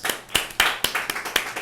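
Clapping at a Uhuru Solidarity Movement discussion, a handful of sharp, distinct claps in an uneven rhythm, close and fairly loud, with a few hands rather than a full crowd and no talk over it.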